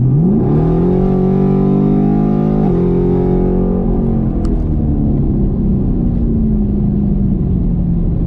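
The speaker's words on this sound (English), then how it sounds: "This is me about to go full wide open throttle." Chevrolet Camaro engine at wide open throttle through an MRT H-pipe exhaust, a loud continuous rising roar that climbs through the gears with brief shift dips, then settles into a steady drone.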